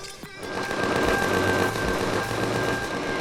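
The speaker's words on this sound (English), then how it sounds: "The turrets are trying to kill things that are inside the structure" Base turrets in the space survival game Empyrion: Galactic Survival fire in rapid, sustained bursts inside a fortress structure, a dense loud rattle of automatic gunfire with a steady high tone running underneath.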